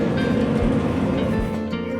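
Inside a moving passenger train bound for Darjeeling, a steady, fairly loud low rumble fills the carriage without a break, with no voices.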